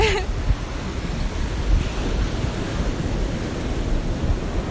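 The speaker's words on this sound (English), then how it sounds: "Listening to the ocean is really nice right now." Ocean waves washing onto a shore during a stroll, a steady broad rush of surf with wind buffeting the microphone, loud and continuous with no clear breaks.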